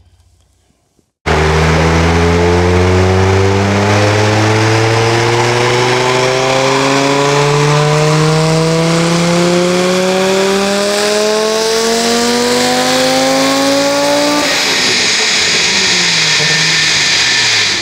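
Tuned Audi S2 turbocharged engine revving hard under boost, a loud, steady climb in pitch sustained for about thirteen seconds before the throttle lifts and it drops off, close and alone with no talk.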